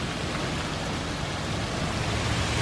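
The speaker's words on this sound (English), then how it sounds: "Look how hard it's raining." Heavy rain pouring down, heard as a dense, steady broadband hiss that stays even and unbroken throughout, loud and close with no talk over it.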